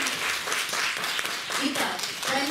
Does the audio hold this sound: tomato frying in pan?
no